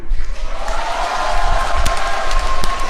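An audience claps at a civic meeting with the mayor of Seongnam, Korea, producing dense, steady applause close by that fills the whole moment without a break.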